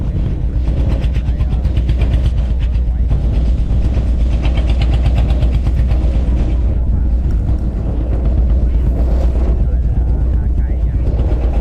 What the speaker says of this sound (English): the engine hums steadily, carrying us over the waves